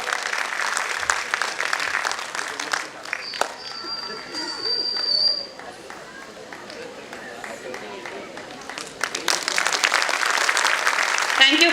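Audience applause at a school annual day event, a broad clapping wash that dips midway under a brief whistle-like tone and some murmuring, then swells loud again at the end.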